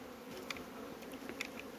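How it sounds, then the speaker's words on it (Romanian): Honey bees flying around an apiary, a faint, steady buzzing drone with a few brief louder passes as individual bees fly close. "Albina iese foarte bine la zbor."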